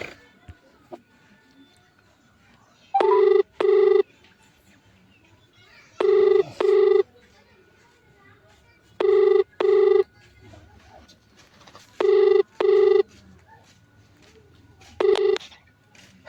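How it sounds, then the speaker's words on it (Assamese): Ringback tone of an outgoing phone call during a prank call, clear double-ring bursts repeating at even intervals about three seconds apart, with faint room noise between them. "এতিয়া কৰিশ্মা নাথক এতিয়া মই ফোনটো লগাম"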